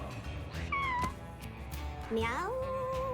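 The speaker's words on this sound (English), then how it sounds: "Meow." Cartoonish cat meows from the video game Mewgenics, two drawn-out mewing calls heard over a steady game background.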